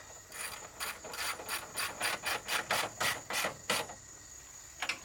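A ratchet wrench tightens nuts on the fender of a 2012 Jeep Wrangler JKU during a flat fender install, giving a close run of about a dozen rapid clicking pulls followed by a pause and one short final burst.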